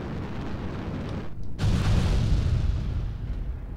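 Missiles fired from a Catapult CTP-A1 mech in MechWarrior Online, a brief gap of quiet followed by a heavy booming impact roar that swells and rumbles on, with constant battle noise before it.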